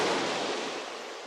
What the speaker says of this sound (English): no sound could be heard except for the waves breaking gently on the shore